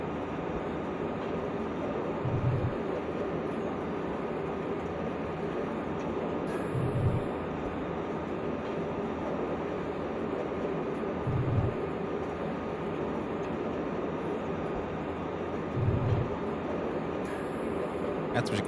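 A subway-style train running through Tirol in Train Simulator Classic, a steady rumbling drone with periodic low thumps every few seconds, sustained and moderately loud.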